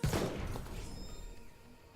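A single sharp gunshot from a game weapon during a shooter match, loud and close at the start, then a fading reverberant tail with some low rumble.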